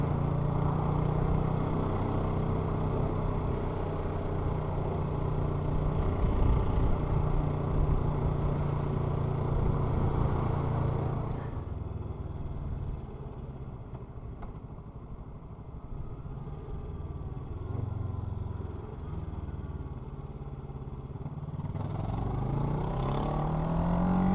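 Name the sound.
motorcycle riding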